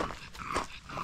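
A female dog whimpering during a walk on a mountain peak, a few short, close whines and soft yips in quick succession.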